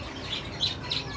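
A small parrot-like bird gives three short, high chirps at a steady pace, faint and fairly close, over quiet background with no talk.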